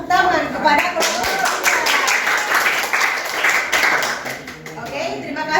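A classroom of students applauds a group, with brisk, loud clapping that swells and then thins out over several seconds while voices talk underneath.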